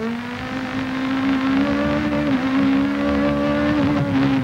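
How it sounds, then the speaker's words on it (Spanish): A TC 2000 race car engine heard from onboard another car on the Paraná circuit, a loud, steady high-revving drone with slight pitch dips as the driver shifts, running continuously without talk. "escuchamos el motor del auto de Maldonado."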